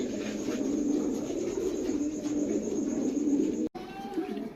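Low, throaty pigeon cooing rolls on steadily for several seconds, fairly close, with a brief gap near the end before the cooing resumes.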